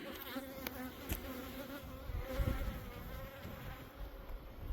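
Honey bees buzz continuously around an insulated hive, a dense steady drone with individual bees passing close by.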